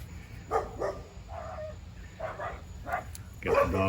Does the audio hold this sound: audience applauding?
no